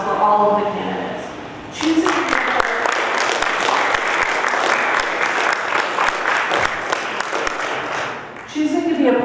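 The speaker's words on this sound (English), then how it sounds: "I'd like a round of applause for all of the candidates" An audience applauds the candidates at a Mercer County Commissioners debate, a dense, steady burst of clapping lasting about seven seconds, with a speaking voice just before and after.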